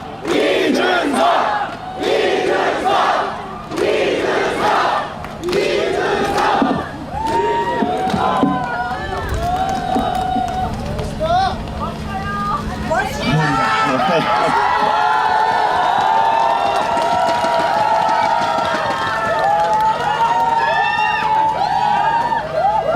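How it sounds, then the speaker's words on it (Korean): Political rally crowd for candidate Lee Jun-seok, loud rhythmic chanting of his name in repeated bursts at first, giving way to sustained cheering, whooping and applause that swells and holds to the end. "여러분 그 박수와 함성 이준석! 이준석! 이준석!"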